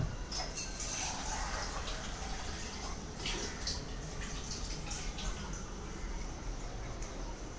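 Water is poured onto an indoor plant, a continuous gentle splashing and trickling at close range with small drips on top.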